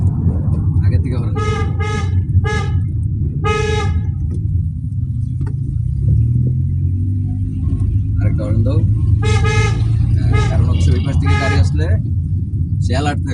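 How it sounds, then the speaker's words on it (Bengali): Car horn honked repeatedly while driving on a narrow road, several short toots in quick clusters over a constant loud engine and road rumble from inside the car, with people talking. "আগে থেকে হর্ন দিয়ে দাও।"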